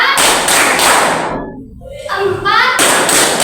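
Hand claps struck in counted beats of four, sharp loud thuds in quick groups, with a brief pause between sets.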